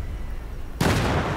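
A sudden loud explosion in Battlefield 3 bursts out after a quiet moment. The sharp crack is followed by a sustained, crackling roar.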